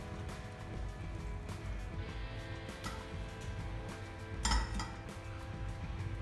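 Pasta tipped into a pan of creamy garlic chicken sauce and stirred, soft clinks and scraping of utensil against the pan over a steady low kitchen background, fairly quiet.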